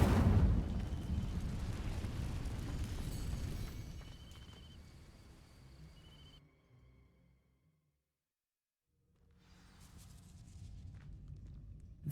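Incendio fire spell cast in Hogwarts Legacy: a loud eruptive fiery burst that roars and crackles, gradually dies away into near silence, then a faint rustling returns.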